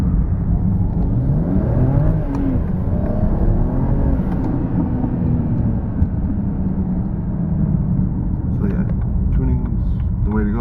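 A BMW E90 335i with its turbocharged engine running at light throttle, a loud close drone and whir of the car under way with rising tones from the engine and turbo, while someone talks over it.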